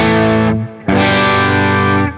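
An electric guitar played through a REVV Dynamis amp on its lowest dynamic setting, gain at half, with reverb on: two sustained, distorted chords ring out, separated by a brief break.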